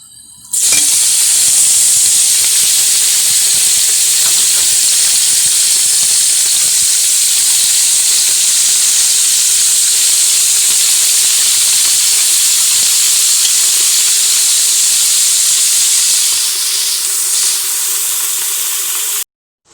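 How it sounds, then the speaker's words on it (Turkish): Loud, steady sizzling hiss of meat searing in hot oil in a pressure cooker, continuous and close, with faint stirring scrapes and no talking. "Etlerimi içerisine bırakıp kavuracağım arkadaşlar."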